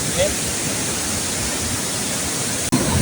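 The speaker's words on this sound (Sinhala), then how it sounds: "බලන්නකො දියැල්ල මේ" A steady, loud rush of water from a waterfall fills the scene at Sathmahal Ella, a broad continuous roar with one brief break near the end.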